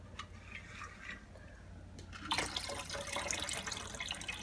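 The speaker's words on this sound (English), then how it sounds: "we're gonna give them a little quick rinse" Tap water rinses sprouted peas, starting with faint trickles and drips and then rising into a steady, splashing stream partway through.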